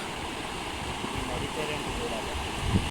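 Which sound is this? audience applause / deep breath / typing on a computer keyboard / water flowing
water flowing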